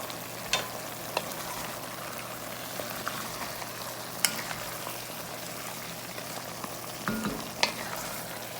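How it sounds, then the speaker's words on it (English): Smoked pork ribs and veal neck bones sautéing under a closed lid in a cast iron dish, giving a steady, even sizzle with a few faint taps and clinks from a spoon. "you're going to saute this for a couple of minutes with the lid closed"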